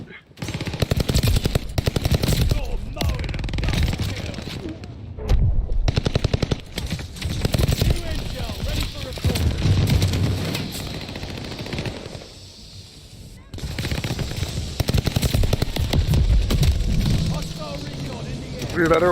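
Rapid automatic Welgun fire in a Call of Duty Vanguard match rattles out in long dense bursts separated by brief pauses, loud and close, with players talking over the shooting.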